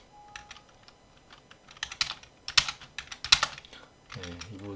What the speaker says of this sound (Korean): 여기서 제가 엔터를 치면은